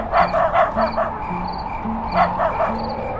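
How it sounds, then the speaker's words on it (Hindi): Dogs bark and yip in quick bursts over a steady low hum, with a couple of short lulls between the barks. "कुत्तों के भौंकने की आवाज गूंज रही थी"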